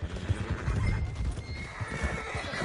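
Horse in the Red Dead Redemption 2 video game neighing and whinnying while its hooves clip-clop steadily underneath, close and clear without speech.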